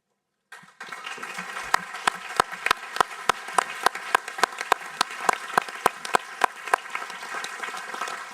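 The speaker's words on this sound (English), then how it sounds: "Thank you for this applause." Audience applause at a WHO regional committee session in a conference hall, starting abruptly after silence as a moderate crowd clapping with one or two prominent close, sharp, rhythmic claps standing out over the steady patter.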